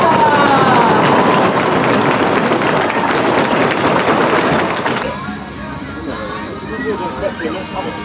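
Dense, loud audience applause at a country music festival, a crowd clapping hard for about five seconds before it drops to scattered claps and murmuring voices.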